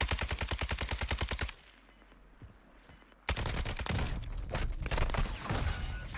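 Rapid automatic gunfire in Warzone 2.0, a fast, evenly spaced burst of loud shots, then a short lull and a second dense volley of firing mixed with impacts.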